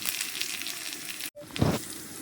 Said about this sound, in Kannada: ಹಾಗೆ ಇದನ್ನು ಸ್ವಲ್ಪ ಫ್ರೈ ಮಾಡ್ಕೊಳ್ಳೋಣ.